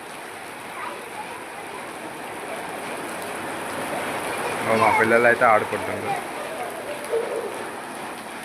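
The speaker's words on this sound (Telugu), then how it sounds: "వర్షం అయితే ఆగట్లేదు, పడుతూనే ఉంది." Steady rain pours at a Shiva temple, a constant hiss of drops on hard surfaces. Around the middle a voice briefly talks over the downpour, with faint background sounds later.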